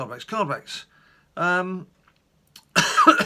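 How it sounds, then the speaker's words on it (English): A person coughs a few times in short harsh bursts between stretches of nearby excited talk, the coughs close and loud, the last burst rough and throaty like clearing the throat. "I got a cough"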